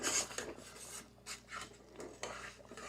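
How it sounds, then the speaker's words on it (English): A flat-bottom spatula scrapes stuck bits off the bottom of a pot of potato soup, giving several rough, rasping strokes close by, with no talking. "Feels like something was stuck on there, so I want to use my flat bottom spatula"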